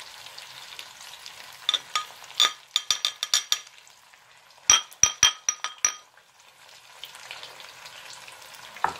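Mushrooms and spices sizzle softly in a pan as a utensil clinks and taps against it in quick bursts of sharp metallic strikes, with a steady frying hiss between them.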